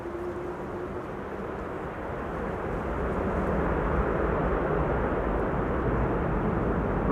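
A Delta airliner landing at Schiphol on the Kaagbaan runway applies thrust reversers, a distant, fairly faint jet rumble that gradually builds in loudness and holds.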